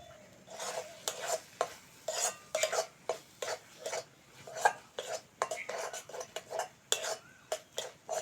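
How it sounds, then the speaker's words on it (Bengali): Green tomato mash being stirred and sautéed in a pan: a spatula scrapes and knocks against the metal in quick repeated strokes, close and moderately loud, over a faint background sizzle. "এবার অল্প আছে ভালো করে কষে নেব।"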